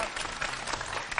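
A school audience breaks into a brief burst of dense, even clapping that fills the space.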